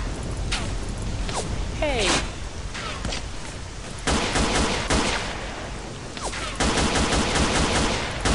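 Gunfire in a zombie survival video game: several sharp bursts and single cracks scattered across the clip, some in rapid clusters, with talk in between.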